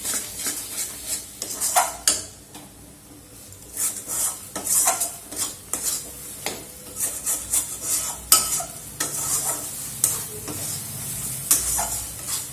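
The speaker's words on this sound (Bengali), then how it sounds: "এবার এটাকে খুব ভালো করে মিশিয়ে নেব।" Lote fish jhuri with chopped coriander leaves being stirred in a pan, a metal spatula scraping and clinking steadily against the pan with a faint sizzle beneath, close and uneven in rhythm with no talking.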